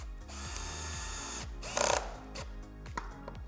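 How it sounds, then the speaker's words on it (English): A screw gun drives screws into the metal frame of an Autonomous SmartDesk Core top, giving several short whirring bursts with a stepped ratchet-like tone, each ending as a screw seats, close up with no talking. "I'm now going to just screw this top right in"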